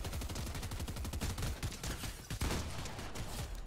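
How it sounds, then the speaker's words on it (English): Rapid gunfire in the Fortnite battle royale video game, dense overlapping bursts of shots crackling loudly and continuously from several directions without pause, with no voices over it. "there's people shooting at me"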